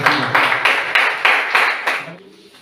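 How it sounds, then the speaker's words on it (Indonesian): A classroom applauds a student group with a few rhythmic rounds of unison claps, close and fairly loud, fading out at the end. "Beri tepuk tangan dulu untuk kelompok 3"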